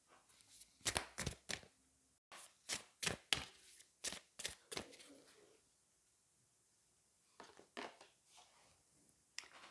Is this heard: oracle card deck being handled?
yes